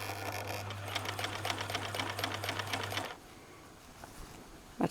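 Sewing machine stitching a pocket on a jumpsuit, a steady, fast run of close needle strokes for about three seconds, then stopping, leaving quiet room tone with a faint click.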